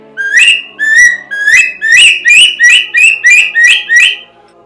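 A loud, clear Lamy bird whistle repeats about ten short rising-then-falling calls in a steady rhythm, imitating a shorebird's call.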